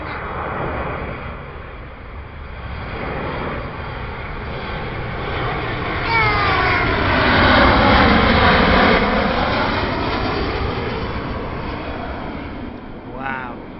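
A Ryanair jet airliner roars past overhead, its broad engine noise swelling to a peak midway and then fading, while people talk nearby over it.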